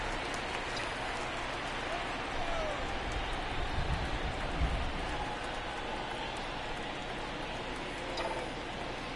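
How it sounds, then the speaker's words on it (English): Heavy rain pouring down at a baseball stadium in Detroit, a faint, steady hiss that fills the whole stretch, with low rumbling swells in the middle. "It's a downpour here in Detroit."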